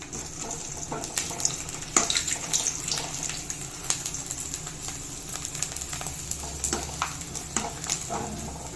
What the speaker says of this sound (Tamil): கொஞ்சம் எண்ணெயை சூடு பண்ணிக்கிட்டு இந்த வத்தலை போட்டு பொறிச்சு எடுத்துக்கலாம்